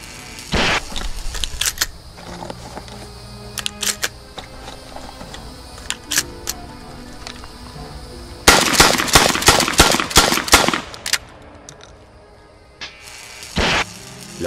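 Winchester M97 pump shotgun slam-fired in rapid succession, sharp loud reports and mechanical action clatter in bursts, one dense volley of fast shots in the middle, separated by quieter handling noises, with no voices.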